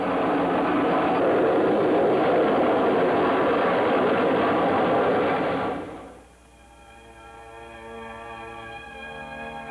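Vertijet jet aircraft hovering in free flight over the desert, a loud, steady broadband jet roar that cuts away after about six seconds, leaving a quieter humming engine tone with steady harmonics.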